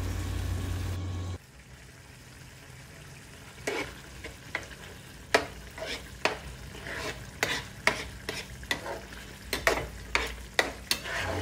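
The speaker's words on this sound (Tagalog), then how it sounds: "hinahalo-halo ko lang po yung itlog" Egg fries with tomato and soy sauce in a pan for sarciadong galunggong. After a short loud burst, a low sizzle continues beneath repeated close, sharp scrapes and taps of a spatula stirring, with no speech.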